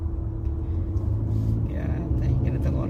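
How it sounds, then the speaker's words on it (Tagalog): Cars idle and creep in a traffic jam on the road to the airport in Riyadh, a steady low engine rumble heard from inside a vehicle, continuous and fairly loud, with faint voices in the background. "Traffic, guys, traffic."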